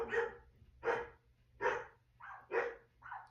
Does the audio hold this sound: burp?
no